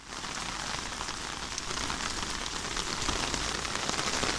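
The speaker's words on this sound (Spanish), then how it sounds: "justo hemos salido y nos cae toda la lluvia" Heavy rain pours steadily onto outdoor surfaces, a dense, even hiss that holds loud and close from start to finish with no voices over it.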